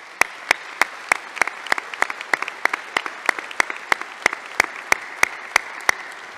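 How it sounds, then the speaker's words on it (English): Applause for the incoming class of 2027 at an osteopathic medicine white coat ceremony, heard as a sparse run of sharp, evenly spaced claps, fairly distinct and isolated rather than a dense crowd roar. "I'd like to give them a round of applause."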